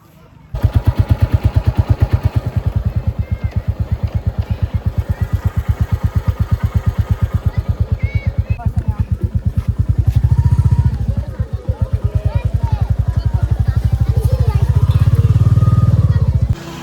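A motorcycle being ridden, its engine a close, steady, rapidly pulsing drone that swells louder around the middle and again near the end, running continuously throughout.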